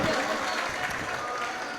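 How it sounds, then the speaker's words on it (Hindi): Audience at a mushaira poetry gathering in a function hall applauding, a steady dense wash of clapping with no pauses, moderately loud and close. "एक बार जोरदार तालियां खूबसूरत मुशायरे के लिए।"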